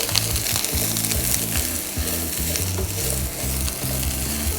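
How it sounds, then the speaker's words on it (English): Vegetables sizzle loudly in a hot pan while caramelizing for a chicken jus, a constant crackling fry with the occasional scrape of stirring. "We want that nice sizzle and we need a good caramelization"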